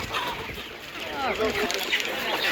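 Hens cluck and squawk in bursts at an animal market, close and fairly loud, with people talking over them throughout.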